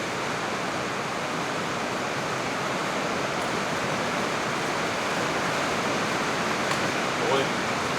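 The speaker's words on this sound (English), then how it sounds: "Pouring outside." Heavy rain pours outside in a dense, steady hiss like rushing water, constant and unbroken throughout with no distinct drops.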